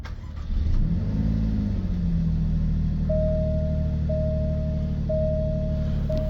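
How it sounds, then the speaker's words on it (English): A 2018 Alfa Romeo Giulia Quadrifoglio engine cranks and catches, revs briefly, then settles into a steady idle while a repeating electronic chime beeps in the background, door open. "I'm actually going to start the vehicle up with the door open so you can kind of hear how it sounds"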